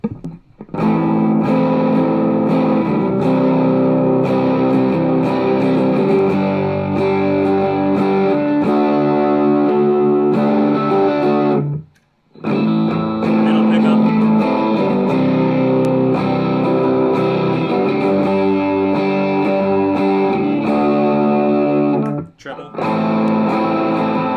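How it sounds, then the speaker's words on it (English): Les Paul electric guitar on its rhythm pickup played through a glassy amp model, loud strummed chords ringing continuously with effects, two short breaks where the sound cuts out before resuming. "Back to the Les Paul. Start with the rhythm pickup."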